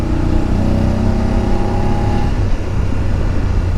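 A motorcycle engine drones steadily while riding a zigzag mountain road in Spiti Valley, loud and close, with a smooth, sustained tone and wind rush all the way through.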